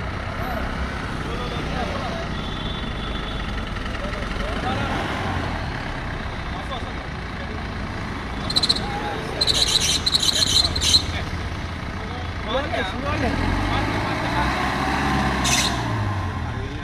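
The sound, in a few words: vehicle driving out on a road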